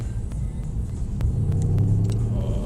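A deep Mercedes-AMG C63 S engine rumble drones steadily up close on a race track and swells slightly toward the end, with faint ticks and clicks over the low growl.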